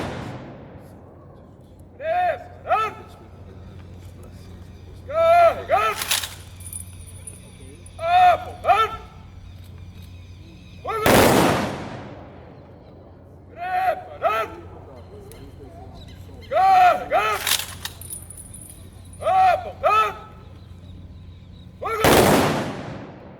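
A ceremonial rifle volley at a 9 July 2023 event, fired on shouted commands: three sharp, loud cracks, each echoing, follow a sequence of called orders, with the cycle repeating twice.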